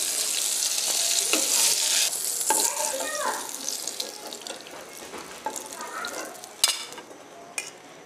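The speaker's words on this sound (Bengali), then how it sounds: "আমার পটলগুলো ভাজা হয়ে গেছে, এখন আমি পটলগুলো তুলে নেচ্ছি" Fried pointed gourd pieces being lifted out of hot oil in a pan, a steady close sizzle with spatula clinks and scrapes against the metal.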